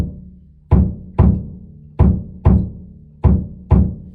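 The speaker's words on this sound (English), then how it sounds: "He has a very repetitive bass drum ostinato that he uses on a lot of different tracks." A bass drum ostinato on a drum kit, with six punchy low kicks in a repeating syncopated pattern, each thudding and decaying quickly. Close and loud, with no voices.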